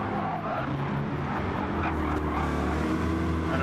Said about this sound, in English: The M6 may be benefiting a bit from the slipstream of the Corvette there.